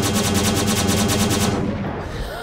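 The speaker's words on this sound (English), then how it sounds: "Wow, these Corsairs are dangerous with that Gatling laser." Double Gatling laser fire from Corsair aircraft in the Xenonauts video game: a loud, continuous rapid burst of evenly spaced shots that cuts off abruptly, leaving a brief fading tail.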